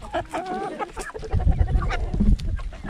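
Belgian hens pecking at fermented fries, clucking in short, close bursts while a person talks over them.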